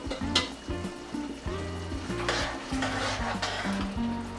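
Tuna being stirred into cooked meat in a pot for a spinach stew, with soft repeated scraping and stirring strokes and a light sizzle, all beneath steady background music.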